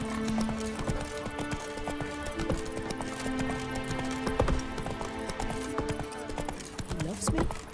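Roach, Geralt's horse in The Witcher 3, gallops with steady rapid hoofbeats and an occasional whinny, set against game music while someone talks to the horse over the top.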